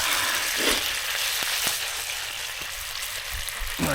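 Potatoes cooking over a desert campfire, a continuous bright sizzling hiss with scattered sharp crackles and pops, close and steady.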